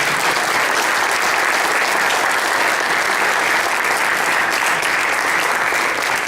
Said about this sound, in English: Please give them a round of applause and your seconds.